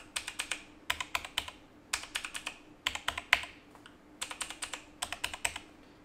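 Mechanical keyboards, a Logitech G910 and a Razer BlackWidow Elite, are typed on in quick bursts of four or five crisp clicking keystrokes with short pauses between groups, close and moderately loud.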